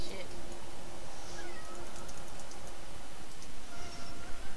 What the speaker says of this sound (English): Meow! What do you want?